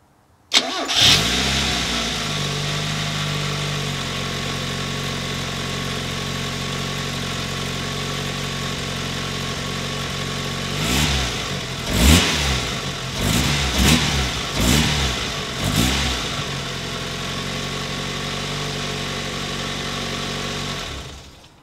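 A car engine starts, then idles steadily for several seconds before a series of quick throttle revs rises and falls, then it settles back to a smooth idle, close and loud.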